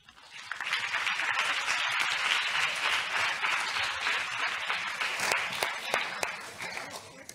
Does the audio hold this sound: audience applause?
yes